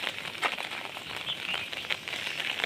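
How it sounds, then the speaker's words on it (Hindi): Rain falling steadily for days on a parked car and a waterlogged street, a dense continuous hiss with scattered drop crackles, moderately loud and with no talking. "इतना बारिश हो रही है"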